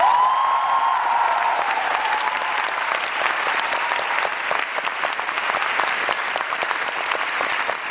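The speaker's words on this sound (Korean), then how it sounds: "우리 스탭들 배우들한테 박수 한 번만 주세요." A theater audience applauds at the curtain call of the musical Zorro, a dense, steady wash of clapping that holds loud and even throughout.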